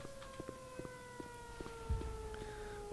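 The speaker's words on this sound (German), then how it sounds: "ich dachte schon, ist die eine Sirene aus, geht die nächste an" A civil defense siren wails steadily in the video game Black Mesa, its sustained tones drifting slightly downward over rhythmic thumping pulses, with a low impact near the end and no talk.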